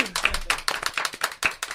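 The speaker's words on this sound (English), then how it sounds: "That was a little clap." Quick hand claps sound close and sharp in a studio, about a dozen in a rapid, slightly uneven patter.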